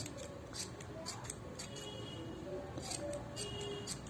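Scissors snip yarn for a handmade pompom, giving a quick series of small, close cuts over a faint steady background.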